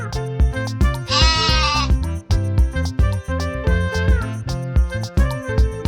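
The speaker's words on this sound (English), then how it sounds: "Look at that little sheep, she's so cute and fluffy." A small, fluffy young sheep bleats in a long, wavering call, close and loud, against a dense backdrop of other farm sounds with no talk.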